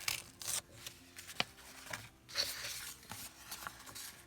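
Scissors cut a paper embellishment for a craft journal page, quiet close snips and rasping paper scrapes coming in short irregular strokes.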